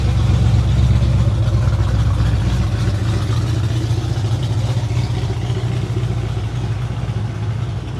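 An antique car with a noisy engine rolls past, a loud low rumbling drone that stays close and steady, easing off slightly as it moves along, with no talking over it.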